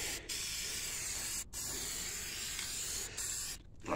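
Walmart spray paint hisses from an aerosol can onto a utility trailer's axle and welds in a close, continuous spray, broken by a few brief gaps, with no talking.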